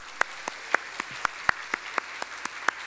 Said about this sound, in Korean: 여러분 격려의 박수를 크게 한번 해주세요.